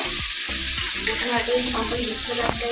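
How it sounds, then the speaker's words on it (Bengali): Rohu fish fries in a pan with a loud, steady sizzle, close and continuous across the short stretch, with some lower tonal background sound underneath. "এরকম মাছ ভাজা বসাচ্ছে রুই মাছ ভাজা বসেও দিয়েছে এদিকে"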